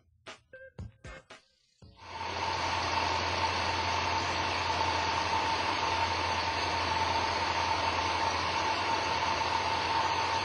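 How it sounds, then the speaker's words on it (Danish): A car engine idles at operating temperature with its vacuum hose removed, set up for ignition timing adjustment. A few sharp clicks come first, then the engine starts into a steady, even idle hum that runs close and unbroken to the end. "motoren skal køre tomgang, og motoren skal være driftsvarm"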